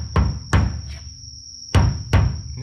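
A plastic mallet bangs four times at an uneven pace on a stuck, rusted part of a Rover Mini during a full teardown. The impacts are sharp and close, with a steady high whine running underneath.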